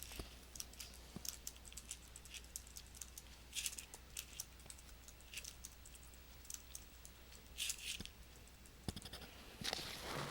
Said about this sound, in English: I'm going to go ahead on and type in a line of text.